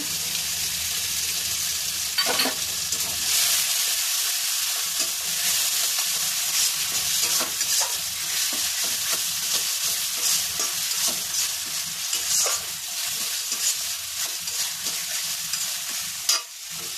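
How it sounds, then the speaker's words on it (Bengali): Ground mustard paste, mixed with water and a pinch of salt, stirred into a frying spice masala for a pointed gourd curry: a loud, steady sizzle with a few scraping stirs throughout, close up and without talk. "এই বেটে রাখা সর্ষেটা দিয়ে দেবো এখানে"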